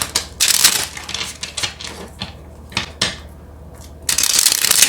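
Tarot cards being shuffled in repeated riffling bursts, crisp and close, with brief pauses between handfuls and no talking.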